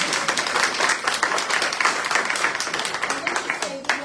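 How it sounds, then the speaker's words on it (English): An audience gives a round of applause for the town of Maplewood at a candidates' forum, with dense steady clapping filling the room for several seconds and a few voices mixed in. "Can we give Maplewood a round of applause?"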